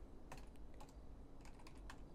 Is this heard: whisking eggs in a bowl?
no